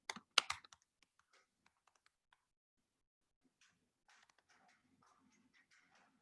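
Typing on a computer keyboard: a quick burst of sharp clicks at the start, then sparse scattered keystrokes and a faint run of soft taps toward the end, all quiet and close.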